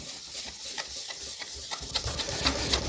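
Coarse cutting compound is rubbed by hand over the case of a 1963 Biennophone Verbier Swiss radio. Close, gritty scraping strokes repeat in a quick, uneven rhythm at low volume.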